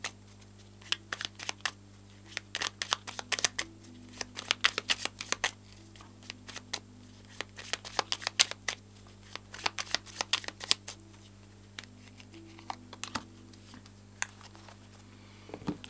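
Oracle cards shuffled by hand for a reading, a steady run of soft riffling snaps and flicks close by, repeated throughout over a low background hum, with no talk.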